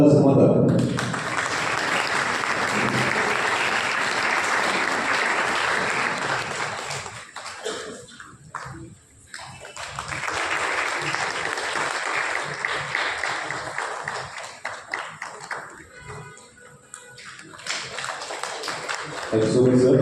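A crowd at a public event of motivational speeches in Darjeeling applauds in two long, steady waves of dense clapping, with a brief lull between them and voices talking over the noise.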